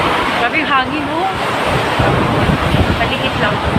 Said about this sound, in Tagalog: grabe yung hangin, oh.